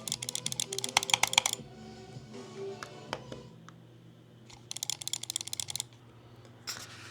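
Logitech MX Master 3 mouse buttons are pressed repeatedly, giving crisp close clicks in rapid clusters of several presses, with short gaps between bursts and a quiet background hum.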